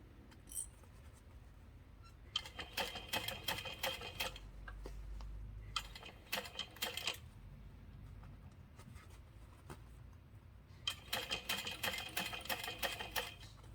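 Sewing machine stitching fabric exterior panels around a curve for a water bottle carrier, three bursts of rapid mechanical stitching separated by pauses with fabric handling, fairly close and without talk.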